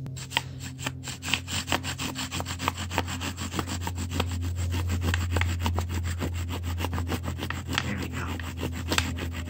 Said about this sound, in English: I'm going to be trying the bow drill for a little bit.